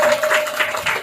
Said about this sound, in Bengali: সকলে একটু জোরে করতালি হোক